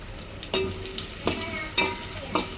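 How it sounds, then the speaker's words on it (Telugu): Chopped onions hit a hot pan of village-style flat bean curry and are stirred and fried, with a steady sizzle broken by four sharp scraping stirs, close and alone. "ఉల్లిపాయలు కూడా వేసేసుకుందాం"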